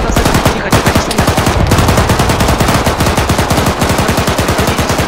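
A BMP armored vehicle in Arma 3 fires its weapon in a long, loud, rapid stream of shots, with heavy reports rattling out evenly for several seconds and no talking.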